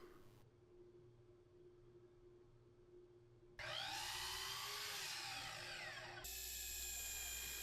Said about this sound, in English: I pre-drilled some holes to attach it to the swing arm